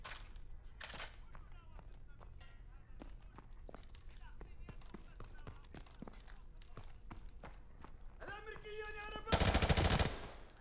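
Enemy gunfire in a remastered video game campaign, rapid bursts of shots and scattered single cracks with footsteps, ending in a loud sustained volley, while a player talks over it.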